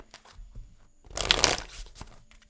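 A tarot deck is shuffled by hand, giving soft papery rustles and a denser riffling burst in the middle, close and quiet with no talk.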